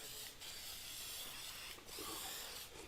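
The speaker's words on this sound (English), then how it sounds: "This is some all-purpose spray adhesive." All-purpose spray adhesive hisses from an aerosol can onto foam while a 302 Skidoo is being finished. Several short, close bursts cut through a steady background hiss.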